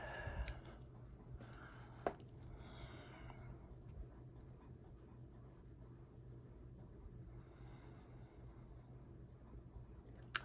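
Jade Green colored pencil strokes lightly across paper in a quiet, continuous scratchy rasp with soft rhythmic shading passes and a couple of small taps.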